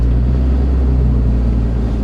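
A BMW cruising along the road, heard from inside the cabin as a steady, continuous low engine and road rumble with no break or change throughout.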